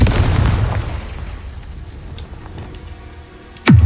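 Confringo blasting curse explosion in the Hogwarts Legacy video game on hard mode, a loud low rumbling blast that decays over a few seconds, followed by a sharp new impact with a falling whoosh at the end.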